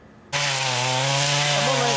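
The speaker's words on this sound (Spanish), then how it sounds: "tumbando la selva con motosierras" A chainsaw starts abruptly after a brief quiet and roars at full, steady revs while felling old trees in the Mapiripán jungle, loud and close with no voices.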